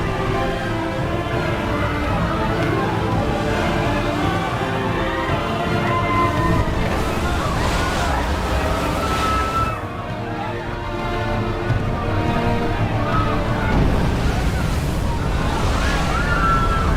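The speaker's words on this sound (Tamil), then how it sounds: "ஐயோ, என்ன இன்னைக்கு கடல் இப்படி கொந்தளிக்குது?" Stormy sea waves played as a sound effect during a church stage play, a loud continuous roar of surf and wind with swelling crests, layered with music-like tones and dense throughout.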